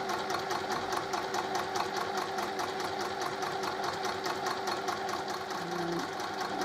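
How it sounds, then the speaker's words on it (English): A sewing machine runs continuously, stitching a fabric seam around a fabric dish, with a fast, even mechanical chatter close up and a brief change in tone near the end. "you're going to sew all the way around"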